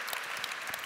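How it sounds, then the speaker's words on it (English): Audience applause during a public conversation with the new Bishop of London, a brief burst of dense, steady clapping from a seated crowd, moderately loud and unbroken. "We'll get more applause for that one."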